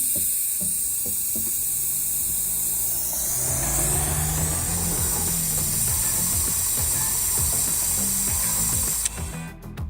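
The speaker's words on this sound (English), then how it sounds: "I'm using my pneumatic vacuum bleeder," A pneumatic vacuum bleeder bleeding the clutch hydraulics of an MG ZS 180 gives a steady hiss with rapid mechanical ratcheting, continuous, loud and close, shifting slightly in pitch partway through.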